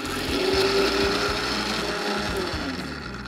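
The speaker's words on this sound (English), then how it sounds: "Let's grind this into a smooth paste." An electric kitchen grinder whirs steadily as it grinds onion, garlic, ginger and cashews into a masala paste, a loud continuous motor hum with a rattling churn underneath, heard alone.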